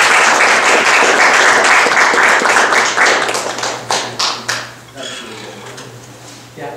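An audience claps loudly in welcome for a speaker, a dense burst of applause that thins into a few scattered, fading claps near the end.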